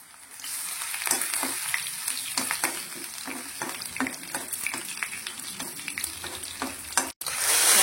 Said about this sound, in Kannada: ಬೆಂಡೆ ಸಾರಿಗೆ ಒಗ್ಗರಣೆಯನ್ನು ಹಾಕೊಂಡಿದ್ದೇವೆ